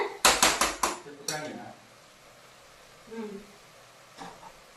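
Chicken curry masala in a village-style chicken saaru fries in a pot while a spoon scrapes and clanks against the metal, a quick burst of sharp clatters up front, then quieter stirring and a faint clink near the end.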